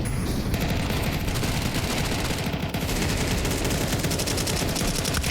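Dense, continuous automatic gunfire from Counter-Strike 2 during a professional esports match, rapid overlapping bursts filling the whole stretch at steady loudness with no pauses.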